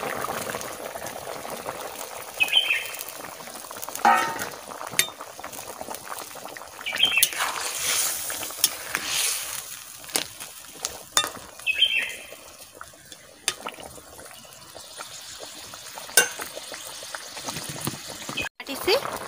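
A pot of curry with fish and taro stems (kochu loti) simmers on the stove, bubbling steadily, with occasional splashes and clatters as ingredients are dropped in and stirred; nearby voices talk over it at times.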